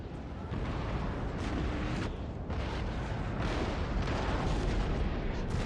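Cannon fire on a Napoleonic-era battlefield in a strategy video game, a dense continuous rumble of booming artillery shots and explosions rolling on throughout, with no voices over it.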